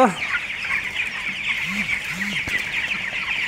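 Chickens raised on a farm cluck close by in a short series of soft rising-and-falling calls, set against a steady high background hum and rustle.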